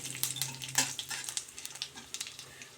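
Panch phoron, dried red chilli and a bay leaf hitting hot oil in a pan for potato curry, giving a steady, close crackling sizzle with dense little pops and spits throughout and no voices.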